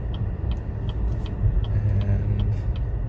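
A car pulling in to park beside other vehicles, heard from inside as a steady low engine rumble and road noise, with faint periodic ticking, continuous and close throughout.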